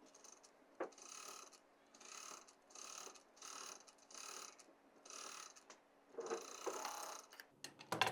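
Sewing machine stitching a dupatta choker, a quiet, rhythmic whirring run in about seven even bursts with brief pauses between them, ending in a few louder clicks and knocks, no talking.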